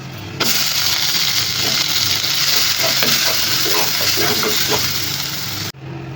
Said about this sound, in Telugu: కట్ చేసి పెట్టుకున్న అల్లం వెల్లుల్లి అండ్ పచ్చిమిర్చి జస్ట్ ఒక్కొక్కటి ఇలా వేయించుకుని ఇప్పుడు ఆనియన్ పేస్ట్